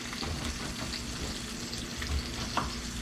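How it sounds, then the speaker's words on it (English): Meat sizzles and crackles steadily in a hot pan, a close, continuous frying hiss with small pops. "while the meat is still over here sizzling a little bit"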